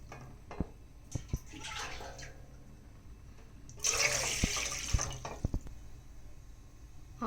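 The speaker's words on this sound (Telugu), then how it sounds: "1/2 లీటర్ పోసాను వాటర్." Half a litre of water poured into a wide pot on a stove for making junnu, a colostrum milk pudding, heard as a short splashing rush between scattered light knocks and clinks.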